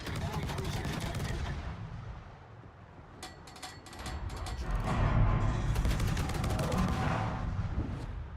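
Anti-aircraft flak fire from a warship in World of Warships, a dense, continuous barrage of rapid popping bursts that swells louder midway, with overlapping booms and crackles sustained throughout.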